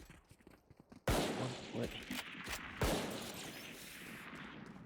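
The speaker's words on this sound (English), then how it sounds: "I was shooting at absolutely nothing." Gunfire in Valorant at a pro match: a loud sudden blast opens a dense spray of rapid shots, then a second burst, with a voice speaking briefly over it.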